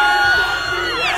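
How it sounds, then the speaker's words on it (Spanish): A children's crowd at a school challenge shouts and cheers for a contestant, a dense continuous roar of many young voices with whoops, loud and close for a brief burst. "Ok, ahora los gritos para Jesús."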